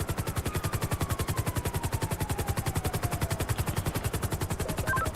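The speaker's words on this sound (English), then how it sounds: "You betcha shots were fired." Sustained rapid automatic gunfire in GTA 5, a fast, even machine-gun rattle running unbroken for several seconds, loud and dominant with a faint siren-like tone sliding underneath.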